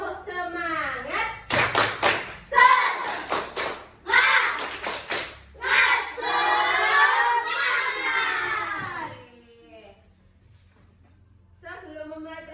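A classroom of children doing the Indonesian "tepuk semangat" spirit clap, rhythmic bursts of hand claps mixed with children's chanting and shouting voices, led by a teacher's spoken count-in, then fading to near quiet.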